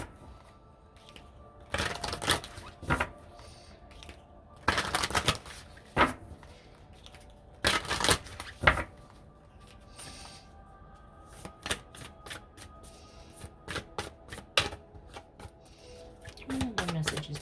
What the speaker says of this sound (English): But I'm going to draw these cards first.